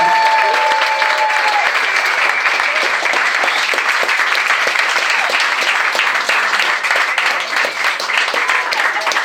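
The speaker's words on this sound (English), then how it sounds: "I'll give him the biggest round of applause in the night." Loud, sustained round of applause from an audience at a 2022 St Martins awards presentation evening, dense continuous clapping filling the whole stretch, with faint crowd murmur underneath.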